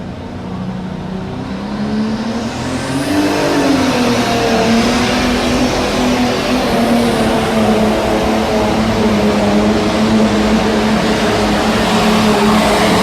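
A pro stock pulling tractor engine at the 1994 NFMS event in Louisville, Kentucky roars loud and close, rising in pitch as it revs up and then holding a sustained, heavy drone for several seconds.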